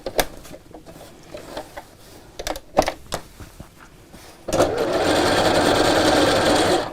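Fabric shirred with elastic thread in a home sewing machine: a few soft clicks and handling noises, then the machine starts and whirs steadily and loudly at close range for the last couple of seconds.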